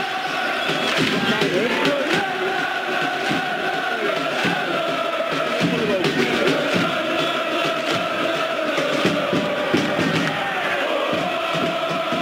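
Stadium crowd in PES2015 at Albania vs Scotland, a Euro qualifier playoff, a dense continuous roar of cheering and chanting holding steady throughout, with a voice speaking over it.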